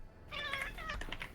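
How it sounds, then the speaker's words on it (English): A cat meows clearly indoors, a drawn-out tonal cry followed by a few shorter, quieter meowing sounds, moderately close and with no speech over it. "Kitty."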